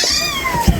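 A cat gives a single drawn-out meow, near and fairly loud, its pitch sliding slowly downward, followed by a brief low thump.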